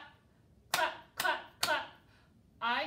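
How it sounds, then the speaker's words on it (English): Hands clap four times during a children's rhyme session at a library, three evenly spaced sharp claps followed by a fourth after a pause, close and clear against a quiet background. "I can make my hands go clap"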